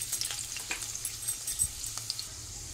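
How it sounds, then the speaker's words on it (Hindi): Finely chopped garlic cloves frying in oil in a pan for an okra fry, a steady soft sizzle with scattered crackles and faint stirring taps, close and moderately quiet, no voices. "जब तक हम लहसुन को फ्राई कर लेंगे"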